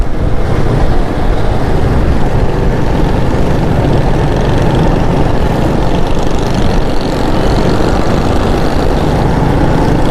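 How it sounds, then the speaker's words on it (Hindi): Strong storm wind roaring in Karachi under heavy rain warning, a loud, steady broadband rush buffeting close by for the whole stretch, with no talk. "बहुत तेज हवा चलना शुरू हो गई है,"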